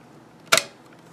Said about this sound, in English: let's see what happens when we put this cartridge in.